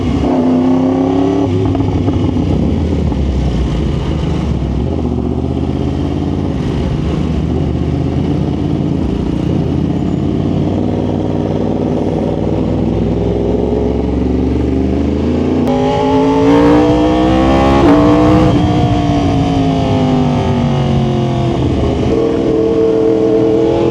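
A Yamaha R1 WGP sport bike with a remapped ECU runs loud and close. Its engine drones steadily, then climbs through sharp, aggressive revs with rising pitch before settling again.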